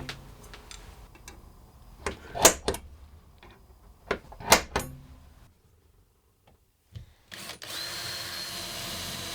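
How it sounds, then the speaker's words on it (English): A power drill boring screw holes into homemade metal window bars, with two short, sharp bursts of drilling amid quiet clicks and handling noises, followed by a steady hiss at the end. "I need a couple of holes either end for them. So I'm just going to get marked out and then drilled"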